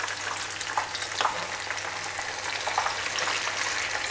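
Plantains fry in hot oil with a steady, moderately loud bubbling sizzle and occasional soft stirring knocks, heard alone without talk.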